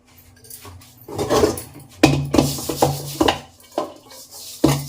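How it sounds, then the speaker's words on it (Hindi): Dishes, pots and utensils being washed and scrubbed in a home kitchen after juice making, with close clinks, clatters and scraping of metal vessels in irregular bursts, no talking. "जूस बनाने के बाद में ये थोड़े से बर्तन हैं, इन्हें साफ़ कर दूँ"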